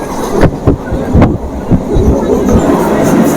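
A train runs through Matla halt, a small station where not every train stops. It rumbles close and loud, with several sharp rhythmic clacks from the wheels passing over rail joints.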